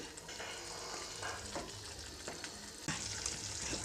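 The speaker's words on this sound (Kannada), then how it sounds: "ಇವಾಗ ಇದನ್ನು ಮತ್ತೆ ಒಂದು ಐದು ನಿಮಿಷ ಚೆನ್ನಾಗಿ ಕುದಿಸ್ಕೊಳ್ತೀನಿ" Kaju paneer masala gravy simmers in a pan, giving soft, steady bubbling and faint sizzling close by, quiet and continuous with a slightly louder splutter near the end.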